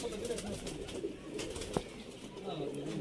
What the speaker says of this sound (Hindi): प्योर टैडी कबूतर, प्योर सखी भट्टी वाले टैडी कबूतर